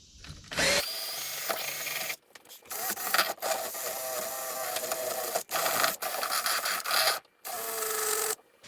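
Small wire brush spun by a power tool inside a bushing hole on a 1999 Volvo truck's Eaton Fuller transmission, a harsh buzzing scour in several bursts broken by short gaps, close and loud.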